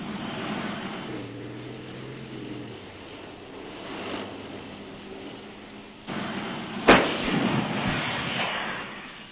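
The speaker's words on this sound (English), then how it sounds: "As soon as a target presents itself, the S-tank comes to a halt and engages." A Stridsvagn 103 S-tank fires its main gun once, a single loud sharp blast with a rolling echo, following a stretch of engine rumble and vehicle noise.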